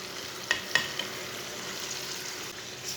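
Boiled white chickpeas are stirred into masala frying in a pan, a steady soft sizzle with a few sharp spoon clicks near the start, no voices.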